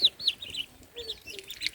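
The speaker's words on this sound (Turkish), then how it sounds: "Evet arkadaşlar civcivlerimiz." Young chicks on a village farm give a series of thin, high-pitched cheeps close by, several brief peeps scattered across a quiet background.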